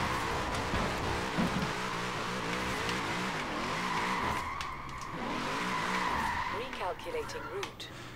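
Formula Drift car in Forza Horizon 4 racing game, tires skidding and squealing steadily over a droning engine for several seconds, loud and continuous with a voice speaking over it.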